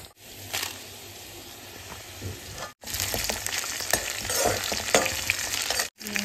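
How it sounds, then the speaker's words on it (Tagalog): Garlic, onion, mustard seeds and cumin seeds sizzle in hot oil for a fish curry, a steady close frying hiss with scraping stir strokes, broken by two brief cuts. "Nagisa ko na yung bawang, sibuyas, mustard seed, cumin seed."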